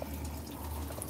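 Water runs steadily from a budget road-trip water setup, a continuous close hiss and gurgle with no break and no talking.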